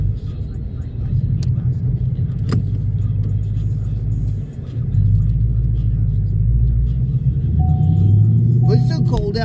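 A Ford Mustang GT rumbles steadily while driving, its low engine drone continuous and close throughout, swelling slightly in the second half, with a few faint clicks and a brief tone near the end.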